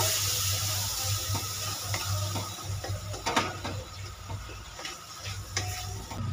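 Water is added to a spice paste frying in a pan, making splashing, bubbling sizzles and stirring clatter at close range. The sound rises and falls unevenly, with no voices.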